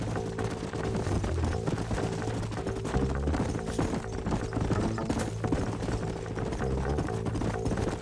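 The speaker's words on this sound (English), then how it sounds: "Let's hold up a minute and find a spot for our horses." Horse hooves clip-clop in steady rhythm in the Red Dead Redemption video game, moderately loud under a continuous bed of music and ambient game sound.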